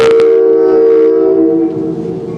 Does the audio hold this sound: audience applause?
no